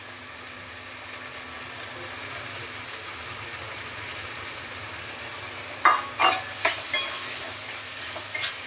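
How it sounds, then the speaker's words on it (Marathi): Steady, low sizzle of spices frying in oil in a hot pan on high heat, with several sharp clanks of a utensil stirring toward the end. "चांगले ओलसर सगळे मसाले मस्त तेलामध्ये परतले"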